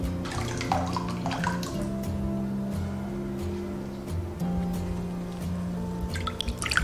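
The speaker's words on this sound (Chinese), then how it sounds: "然后用筛网过滤出来， 清洗2遍。" Water runs and splashes as soaked sesame seeds are rinsed through a mesh sieve, with a continuous low trickle and scattered drips and sloshes, fairly faint and close, with no speech.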